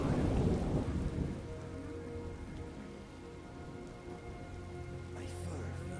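Steady rain patters on surfaces in a Skyrim storm while low thunder rolls near the start and fades into a constant, close wash of falling water.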